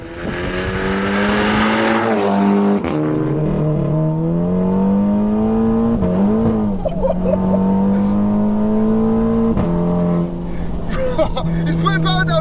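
A 360 bhp Stage 2 Plus VW Scirocco R accelerating on a very wet road in heavy rain, its strong droning note rising and dipping in pitch, loud and close, with brief hissy bursts over the top.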